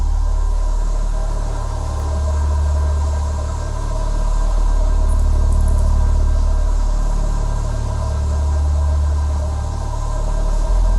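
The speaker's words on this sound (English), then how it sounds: "Got a vehicle approaching." A utility van's engine makes a low, steady rumble that swells and fades in slow waves, with a constant hum underneath and no voices.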